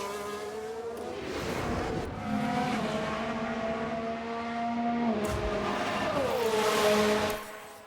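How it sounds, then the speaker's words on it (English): Red Bull race car in the F1 Manager 2022 racing game losing control and crashing, with a loud, sustained engine whine whose pitch dips and climbs, overlapping car noise, a tire-skid hiss and a brief dull thump midway. "They've lost control, and there's the crash."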